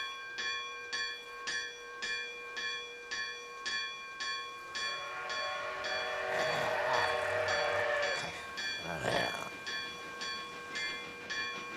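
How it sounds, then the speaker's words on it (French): A train bell in an anime clangs in a steady rhythm, joined midway by a swelling rumble and a brief whistle-like burst before the even ringing carries on alone. "On dirait la cloche d'un train."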